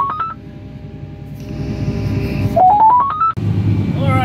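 A phone call ringtone plays through a small Bluetooth speaker in a tractor cab, a few short beeps followed by a rising series of tones, with engine rumble underneath.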